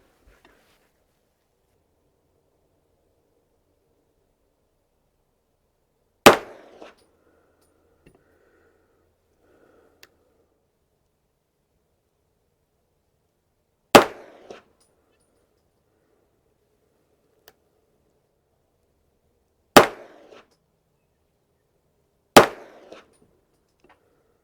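Pistol shots firing 124 gr Federal HST rounds ring out as four loud, isolated reports spaced several seconds apart, each sharp crack followed by a brief echo, with near silence between them.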